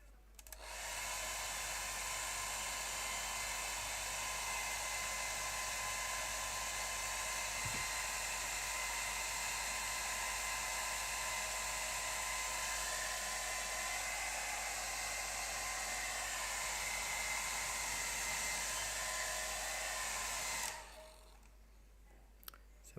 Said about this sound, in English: Let me just get the hairdryer on this.